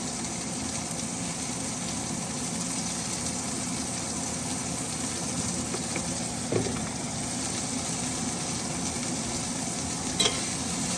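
Bean burgers seasoned with salt, pepper and garlic cook in a pan with a constant, even sizzle, close and steady, broken only by a couple of faint knocks.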